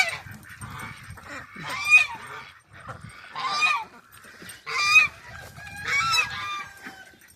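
Several loud, harsh guinea fowl calls come in repeated bursts, raspy and rhythmic, with brief pauses between them.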